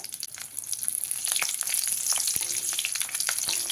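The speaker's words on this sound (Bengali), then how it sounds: "এবার তেলের মধ্যে দিয়ে দিলাম অল্প পরিমাণ কালো জিরে চার পাঁচটা কাঁচা লঙ্কা" Black cumin seeds and green chilies frying in hot oil, a steady bright sizzle with scattered crackles and pops, close and continuous with no talking.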